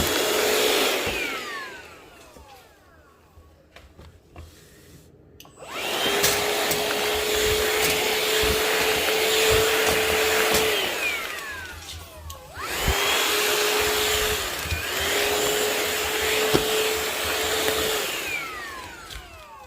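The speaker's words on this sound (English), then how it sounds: "It's a very powerful vacuum." A Shark VacMop vacuum cleaner whines loudly, switching off briefly and back on, its motor surging and dipping in two long runs.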